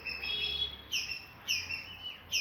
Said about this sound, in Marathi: आवाज येतोय पक्ष्यांचा?